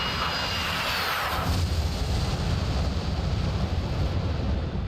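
A-4E Skyhawk jet engine in the DCS video game just after takeoff, with gear and flaps up: a loud, continuous roar with a whining high tone that builds in the first second and then holds steady.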